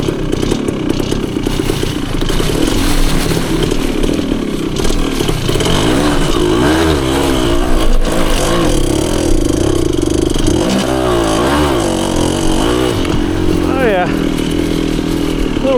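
A 1974 Honda MT250 two-stroke enduro motorcycle crawls uphill through the woods in first gear, its engine buzzing loud and steady with rising and falling revs as the clutch is worked, up close throughout.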